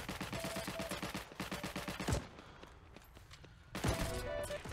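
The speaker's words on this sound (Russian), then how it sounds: "где-то происходит страшная стрельба" Gunfire in the World War II shooter game Heroes & Generals, rapid bursts of automatic shots with a few single heavy reports, fairly close and intense, pausing briefly before resuming.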